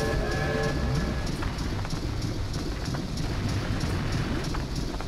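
Train in the Banjo-Tooie video game, a steady rumbling chug with rhythmic clacking and a short whistle-like tone at the start, continuous and fairly loud with no talk.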